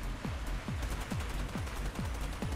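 Pistol shots in the shooter Warface ring out one by one in a steady, evenly spaced rhythm, about six sharp cracks close by over low game ambience.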